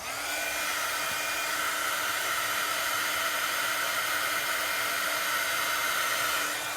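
A craft heat tool blows hot air to melt black embossing powder on a card, producing a steady, close, whirring rush of air that holds even from start to finish.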